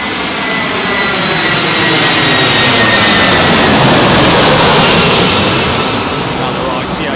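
ITA jet airliner passing low overhead on arrival to land at London Heathrow, a loud broadband engine roar that builds and peaks mid-pass before easing slightly, dominating everything else.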